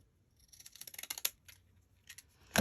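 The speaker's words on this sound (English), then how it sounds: "I'm going to cut very close to" Scissors snip paper close to a line in a quick run of small crisp cuts, followed by a few more isolated snips and a louder clack at the end, close and quiet.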